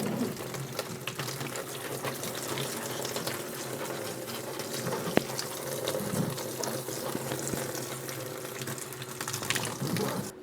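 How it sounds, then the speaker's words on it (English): Water pouring steadily to soak potting mix in a seed tray before sowing tomato seeds, a continuous close splashing trickle with no talk. "So now I'm going to give the potting mix a good soaking because it really wasn't"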